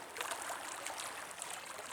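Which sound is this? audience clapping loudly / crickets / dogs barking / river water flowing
river water flowing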